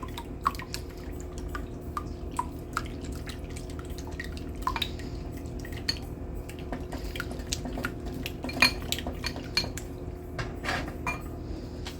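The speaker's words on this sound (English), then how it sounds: "So I'm just going to mix this up, heat it up a little bit." A utensil scrapes and clinks repeatedly against a pan while chicken parmesan sauce is mixed and heated, with irregular sharp taps and faint liquid stirring over a low steady hum, close and moderately loud.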